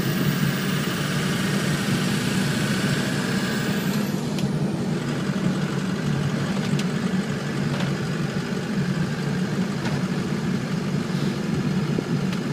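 A truck engine idles in a steady, continuous low rumble, close and unchanging throughout, with no voices.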